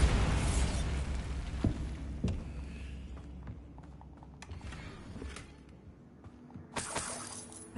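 Bombarda blasting spell in Hogwarts Legacy: a loud explosive burst at the start that decays into rumbling debris, followed by scattered shattering clatters and a bright crackling burst near the end.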